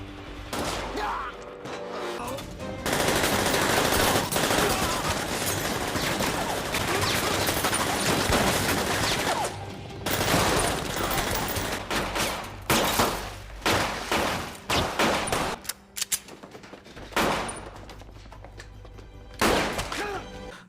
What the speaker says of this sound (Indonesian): Di sana dia terlibat baku tembak dengan mereka.